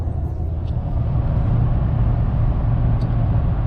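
A 2019 Toyota Tundra on new 33-inch Falken Wildpeak tires cruises at about 65 mph, giving a steady, loud low road and engine drone with constant tire hum throughout and no talking.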